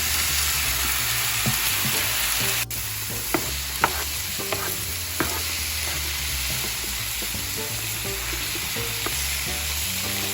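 Green beans sizzle steadily in a hot pan while being stirred, with scattered clicks and scrapes of the utensil over a continuous, close frying hiss.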